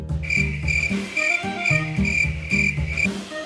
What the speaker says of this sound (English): Cricket.